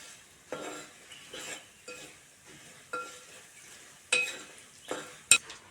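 A spoon stirs powdered fenugreek and asafoetida around a pan in short scraping strokes, about one per second, each a brief rasp with a few sharper clinks near the end. No one talks.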